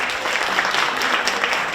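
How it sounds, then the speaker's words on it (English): Steady, dense applause from an audience at a lecture on Black music history, filling the short stretch without letup and with no talking over it. "Can we give her a round of applause?"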